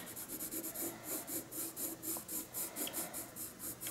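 A colored pencil burnishes paper while shading a kingfisher's wing, making quick, even back-and-forth rubbing strokes in a steady rhythm of about three per second, close and dry.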